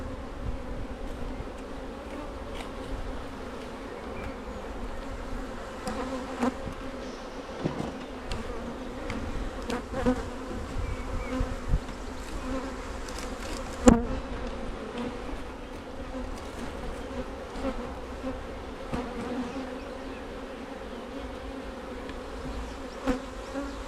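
Honeybees buzzing steadily around an open hive during a swarm-season inspection, a dense continuous drone with individual bees zipping close past now and then, one brief louder knock midway.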